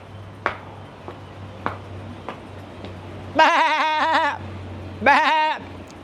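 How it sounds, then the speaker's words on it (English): A goat bleats twice, two wavering, tremulous calls, close and loud, preceded by a few sharp ticks against a low steady hum. "A goat say baa,"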